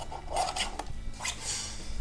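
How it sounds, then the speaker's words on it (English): A paper card edge being trimmed on a craft trimmer, several short raspy slicing strokes close up and quiet, with no talking. "I can trim this edge"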